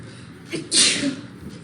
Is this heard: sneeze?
yes